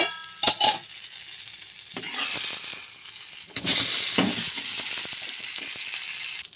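Brinjal coated in masala paste fries in a pan, a steady sizzle broken by stirring scrapes and a few clinks of a utensil against the pan.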